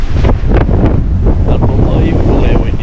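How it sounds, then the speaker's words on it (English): Strong wind buffeting the microphone outdoors during a bowhunt, a loud continuous roaring rumble with gusty surges and no pause across the short stretch. "Unbelievable how windy that is."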